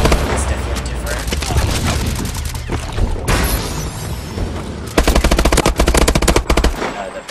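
Rapid bursts of video game rifle fire from the Val, with sharp cracks and booms, heavy and close, pausing briefly midway before another loud volley.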